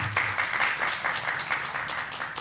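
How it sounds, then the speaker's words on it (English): An audience at a birthday anniversary celebration breaks into steady, dense applause, many hands clapping together at an even level with no voices over it. "Can we have a round of applause, please?"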